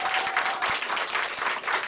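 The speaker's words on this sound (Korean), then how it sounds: "저희 감사한 김건희 사장님께 큰 박수 부탁드리겠습니다" Sustained audience applause at a business group meeting, dense steady clapping filling the room for the whole stretch, with a faint voice briefly underneath at the start.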